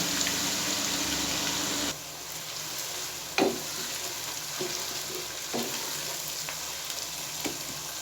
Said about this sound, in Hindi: अब इसमें मैं 5 दरमियाने साइज़ के छोटे प्याज जो हैं वो मैंने काटे हैं,